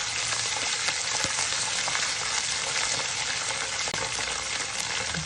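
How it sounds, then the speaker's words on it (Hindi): Ginger garlic paste fries in a pan, a loud, steady sizzle with faint stirring scrapes and no talking. "थोड़ा सा हमें इसको फ्राई करना है"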